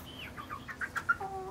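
Chickens clucking softly nearby, a run of short clucks and chirps with a quiet background.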